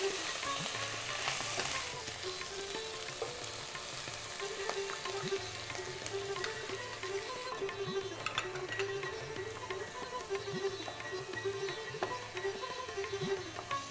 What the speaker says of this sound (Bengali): আর ওই বাটা মশলাটাও দিয়ে দাও প্লিজ